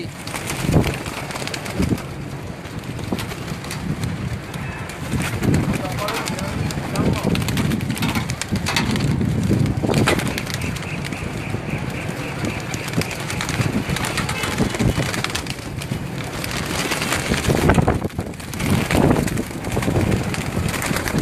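Golden dabbe wale pigeons of the Nili Dummi breed cooing close by, repeated soft throaty calls mixed with wing and shuffling noise, heard under frequent talk.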